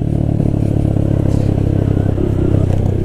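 Honda Grom 125cc motorcycle engine running at a steady idle, a continuous close low rumble with a slight clattering texture and no speech.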